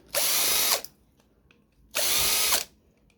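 Two bursts of a cordless drill whirring at high speed, each lasting under a second with a short pause between, close by and loud.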